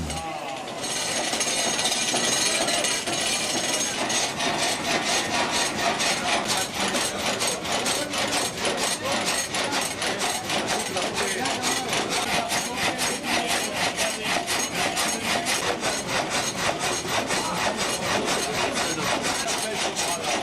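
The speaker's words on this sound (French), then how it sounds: "L'eau va tomber sur la roue qui, en tournant, fait fonctionner la scie." A water-wheel-powered sawmill saw rasps through wood with a fast, steady reciprocating rhythm, loud and relentless, the mill's machinery churning beneath it, at the Nax sawmill.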